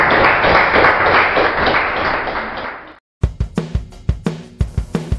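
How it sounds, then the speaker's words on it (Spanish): A church congregation claps as an offering to God, several sharp, close claps in an uneven rhythm following a burst of loud sustained noise that cuts to silence. "Damos una ofrenda de aplausos al Señor."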